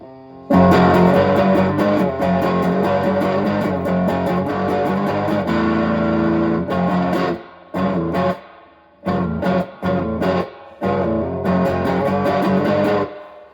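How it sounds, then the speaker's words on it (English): Ibanez AX120 electric guitar played through its rear pickup with a distortion effect, a run of sustained, loud distorted strumming followed by short choppy stabs separated by brief silences. "We're gonna go rear pickup first."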